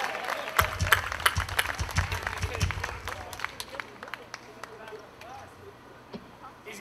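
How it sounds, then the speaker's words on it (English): Audience applauds a pianist at a library music event featuring a band, with a burst of dense clapping that thins out over several seconds, while voices talk throughout. "So give him a big round of applause."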